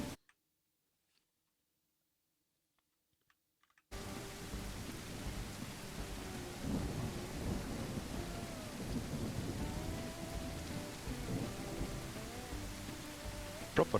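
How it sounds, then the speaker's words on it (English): Thunderstorm rain with thunder in the train game Railroads Online, starting after about four seconds of near silence and then a dense, steady downpour with low rumbles continuing to the end. "Proper thunderstorm in the game at the moment."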